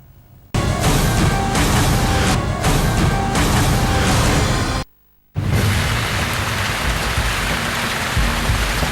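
Rain pours steadily across a heat-baked North Indian landscape, a dense loud wash that cuts out for a brief moment and then resumes just as heavy.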